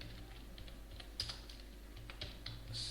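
Faint clicks of someone typing C++ code on a computer keyboard, scattered keystrokes against a low steady hum, with no talking.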